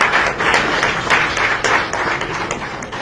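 A crowd at a Sierra Leone political address claps loudly and steadily, a close, dense roll of many hands with distinct sharper claps popping out of the mass throughout.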